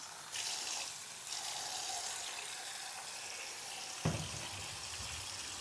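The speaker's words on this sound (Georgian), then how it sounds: "ხა ესეც ამაში წყალი ჩავაყენოთ." Tap water runs steadily into a bowl for washing potatoes, a continuous hiss with a small clunk partway through.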